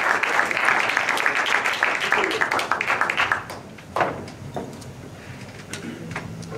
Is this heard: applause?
yes